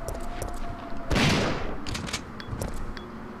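A shotgun blasts at zombies in Resident Evil 3 on GameCube: one loud, booming shot in the middle, set among smaller game clatters and thuds, with no voices heard.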